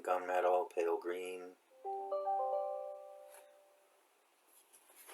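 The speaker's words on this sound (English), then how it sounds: "Sorry about that. That was my phone." A mobile phone chimes with a short rising run of clear electronic tones that ring out and fade, following a voice as he lists paint colours while unboxing an Italeri 1/48 AB 212/UH-1N Huey helicopter model kit.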